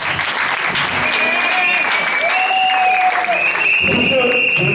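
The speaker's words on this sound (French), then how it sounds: "Est-ce qu'on va acclamer?" An audience at a wedding blessing applauds and cheers, a dense, loud, sustained clapping up close with whoops over it. A voice talks through the applause.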